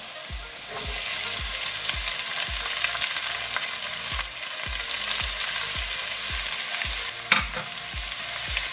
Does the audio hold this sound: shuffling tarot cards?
no